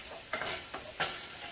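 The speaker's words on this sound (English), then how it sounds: "My little grinded herbs and spice. Okay. Stir them in." Ground herbs and spices are stirred into cornmeal in a pot: a few soft scraping strokes over a faint, steady sizzle, heard close with no voices.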